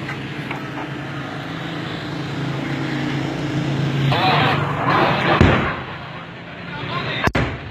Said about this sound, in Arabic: طيران فوق يا شباب، طيران بالترس.